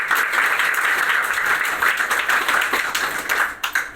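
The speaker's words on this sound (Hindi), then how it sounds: "जिनके लिए एक जोरदार ताली" Loud applause for Vestige founder Gautam Bali at a company business talk, a continuous stream of many hands clapping with a rapid, crackling texture that thins briefly near the end.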